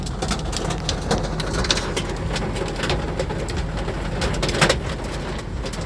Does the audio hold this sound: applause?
no